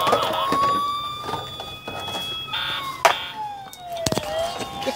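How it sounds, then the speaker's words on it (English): A toy ambulance siren wails in rising and falling electronic tones, close and fairly loud, broken up by clicks and clatter. "Oh my gosh. That's not a police. That's an ambulance."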